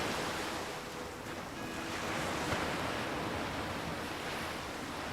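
Ocean surf from the Nancy Drew game The Creature of Kapu Cave: a steady, broad wash of waves rolling in continuously at moderate level, with no speech over it.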